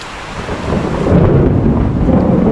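Heavy rain pours steadily with low rumbling thunder building and rolling underneath, loud and close, with no talk.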